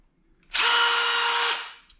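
An impact driver whirs loudly for about a second in one continuous burst close by, starting abruptly and winding down quickly.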